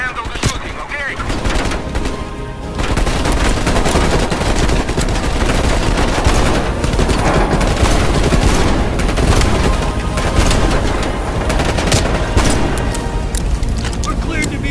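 Sustained helicopter-mounted gunfire in Black Ops Cold War, a dense, loud, continuous rattle of automatic fire with booms mixed in, while voices talk over it.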